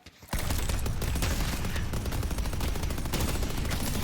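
Dense, continuous burst of rapid automatic fire from a deployed turret in a video game, loud and sustained after a brief quiet start, with no voices.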